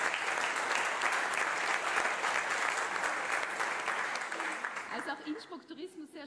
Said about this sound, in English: So a big hand of applause for them.